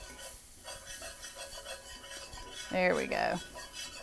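Flour being whisked into melted butter and grease in a pan to build a roux, with soft clinking and scraping strokes that swell into a louder, busier burst of whisking partway through, and a short spoken remark over the top.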